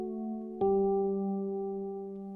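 A minor-key cadence plays as sustained keyboard chords: one held chord moves to a louder final chord, then rings out and slowly fades, close and clear with no talking.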